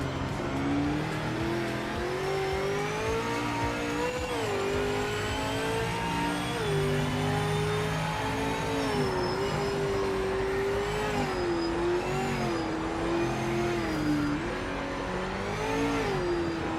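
Race car engine in Project Motor Racing, a loud, close whine that rises and drops through repeated downshifts and revs, with tire squeal, steady and alone without voices.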